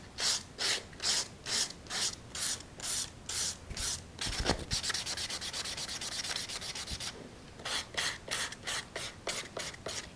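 Chalk-painted wood has its edges sanded by hand, a close rhythmic scratching of quick strokes, then a stretch of continuous rubbing before the steady back-and-forth strokes return, with no voices.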